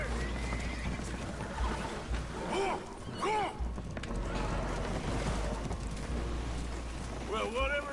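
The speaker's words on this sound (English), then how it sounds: "Horses are spooked, and we're taking on water." Spooked horses whinny and neigh aboard a damaged boat taking on water in a video game, over steady wind and water noise with voices speaking.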